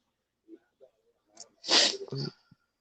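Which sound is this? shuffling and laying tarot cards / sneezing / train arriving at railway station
sneezing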